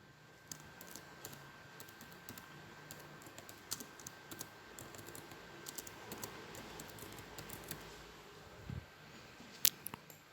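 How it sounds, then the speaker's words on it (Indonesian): Quiet typing on a computer keyboard while a title is entered, a scattered series of soft key clicks at an uneven pace with a few sharper taps, heard alone over faint room hiss. "Kita ketikkan judulnya."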